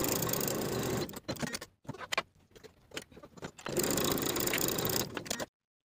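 A sewing machine stitching the side seams of a shirt collar at a quarter-inch seam allowance, running in two loud sustained bursts with a quieter stop-start patch of short stitching and handling noises between them.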